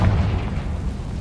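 A Confringo blasting spell detonates in Hogwarts Legacy, a single deep, booming explosion heavy in low rumble that hits at once and then trails off as a dull roar.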